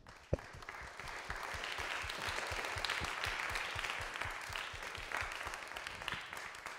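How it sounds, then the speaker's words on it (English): A crowd applauds steadily for several seconds, with dense clapping that continues throughout without speech. "I think we should just all give ourselves a round of applause and Dr. McCrodan."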